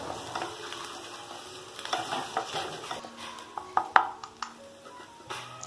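Chopped onions, garlic and curry leaves being sautéed in a pan, with soft sizzling under repeated scraping and stirring clatter of a utensil against the pan.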